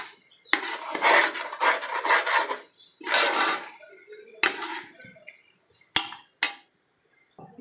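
Meat curry being stirred through a pot of Chennai-style kalyanam biryani, with repeated scraping and rasping strokes and occasional clinks of the spoon against the metal, close and fairly loud, coming in uneven bursts with quiet gaps.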